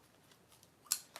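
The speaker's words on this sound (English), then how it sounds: "I am gonna trim some of the strings on these" Scissors snip strings on small handmade bohemian journals, one crisp close cut followed by a second lighter snip, in a quiet room.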